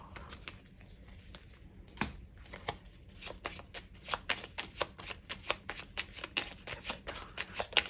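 A deck of 32 playing cards being shuffled close by, a continuous series of quick crisp riffling flutters and soft slaps that grow denser toward the end, with no voice over them.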